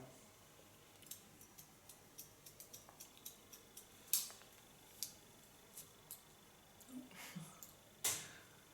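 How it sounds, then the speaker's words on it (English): Scissors snipping into the ends of a layered asymmetric bob haircut with a fringe, point cutting to correct the line: a quiet, irregular series of small clicks and snips, with a couple of louder close cuts. "Point cut to correct the line."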